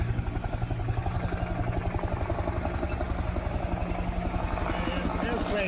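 A firefighting helicopter passes directly overhead, its rotor thumping in a fast, steady beat over a loud engine drone that holds throughout.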